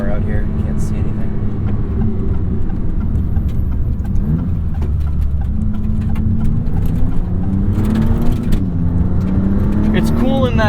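A 2022 Maserati MC20 sports car on the move, its engine droning loudly and steadily with pitch swells as it accelerates and shifts, heavy road and wind noise around it, close and continuous.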